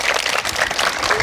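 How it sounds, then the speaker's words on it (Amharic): Children clapping together at a celebration, a dense, continuous patter of small hands at close range, lively and even throughout with no talking on top. "እንደዚህ ነው እንደምታጨበጭቡላት"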